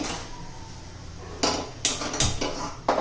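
Knife chopping ridge gourd into small pieces on a board in a home kitchen: a few sharp, close chopping knocks after a quieter stretch, no talk.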